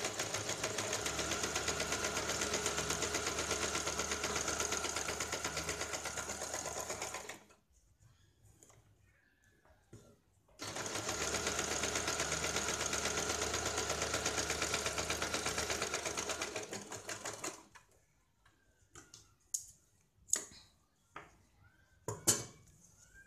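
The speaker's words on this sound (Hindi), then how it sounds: "पूरे गले के ऊपर हमें ये सिलाई लगानी है।" A sewing machine stitches around a blouse neckline in two long, steady runs of fast mechanical whirring. A short pause separates them, and sparse clicks and handling knocks follow at the end.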